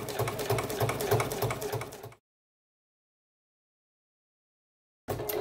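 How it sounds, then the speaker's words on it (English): Juki DX7 sewing machine stitching fabric along a pressed line, a fast rhythmic mechanical chatter for about two seconds, then silence, then the stitching resumes briefly. "I'm just sewing right on, or close to, that pressed line."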